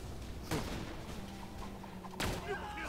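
Two loud shotgun blasts from the Heart of the Pimpernel in a video game, spaced about two seconds apart, each a sharp close crack over a low game background.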